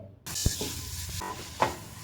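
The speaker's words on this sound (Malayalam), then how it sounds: "കാൽ കപ്പ് കാരറ്റ് ഗ്രേറ്റ് ചെയ്തതും ഒരു ചെറിയ തക്കാളിയും ചേർത്ത് വീണ്ടും വഴറ്റാം" Food sizzling and stirred in a pan, with a couple of sharp utensil clinks against the metal.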